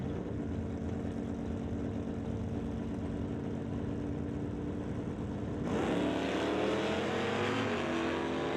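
Drag race launch at the start of a heads-up race between a Monte Carlo and an old-school Cutlass: steady loud engine roar that jumps sharply in volume and pitch midway as both cars accelerate, with no talk.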